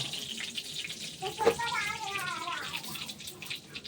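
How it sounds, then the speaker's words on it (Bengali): Dried red chillies and bay leaves sizzle in hot oil, giving a steady close hiss with a sharper crackling burst partway through. "তেল গরম হয়ে গেছে শুকনো মরিচ তেজপাতা দিয়ে দিলাম"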